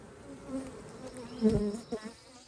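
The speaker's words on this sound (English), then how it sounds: "Look at that bee. It's trying to sting me." Honey bees buzz around an open hive super during an inspection, one bee droning loudly and close by as it passes near, with quieter buzzing from others behind it.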